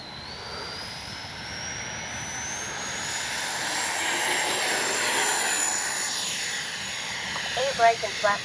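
An FMS Su-27 twin 70mm electric ducted-fan RC jet takes off, its whine rising steadily in pitch as it powers up, loud and near, with a voice talking at the end.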